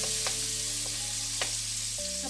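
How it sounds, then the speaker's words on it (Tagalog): Garlic sautéing in a pan for beef caldereta, a steady close sizzle with a few soft scrapes of a utensil, no talking. "igigisa natin yung ating bawang or yung ating garlic"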